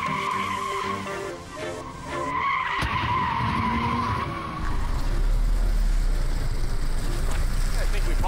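A drift car's tires skid and squeal through a slide under throttle, with a steady engine roar building louder toward the end, close and loud, while people talk over it.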